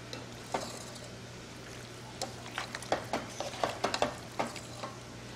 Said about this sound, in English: And we just gently mix everything together.